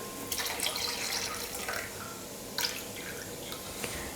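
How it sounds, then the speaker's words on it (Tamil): Water is poured into whisked curd in a kitchen, a soft splashing and trickling with a few brief louder splashes, close by and quiet, with no talking. "இது கூட 1 கப் அளவுக்கு நான் தண்ணி சேர்த்துக்க போகிறேன்."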